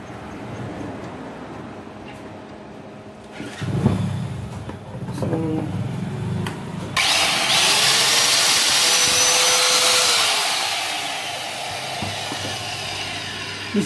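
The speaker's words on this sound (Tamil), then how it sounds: "ஸோ போட்டு மிஷினை வந்து ரன் பண்ணி பார்த்துடலாம்." A Powerbilt marble cutting machine, freshly fitted with new bearings, starts up after a stretch of low workshop noise and some clatter, then runs with a loud, steady broadband whine that eases slightly toward the end.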